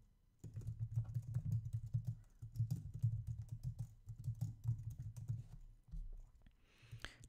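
Steady typing on a computer keyboard, a quick close run of soft key clicks and thumps that keeps going for several seconds with brief pauses, alone without any talking.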